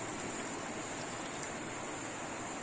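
A steady, even hiss of milk pouring continuously into a pan on the stove, close and unbroken throughout.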